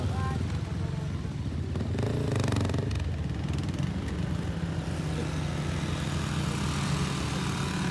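Motorcycles, among them a Honda XRM, climb an uphill road toward a foggy sea-of-clouds viewpoint crowded with tourists, their engines droning steadily and loudly throughout with shifting revs and no clear pauses.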